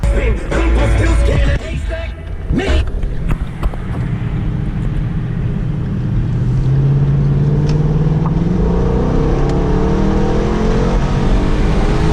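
A 2011 Ford Mustang GT with a 5.0 V8 accelerates hard on a highway, its engine roar climbing steadily in pitch through the gears as heard from inside the car, with no talking.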